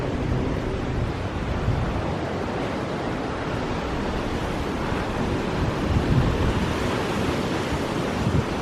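Ocean surf washing onto the beach along the Jeddah Corniche in Saudi Arabia, a steady broadband roar of breaking waves with some wind buffeting the microphone, continuous and fairly close with no talk.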